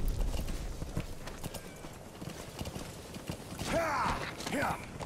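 A horse in MGSV: The Phantom Pain walks with steady clip-clop hoofbeats, then gives a whinny near the end, over faint mechanical creaks, with a voice speaking earlier.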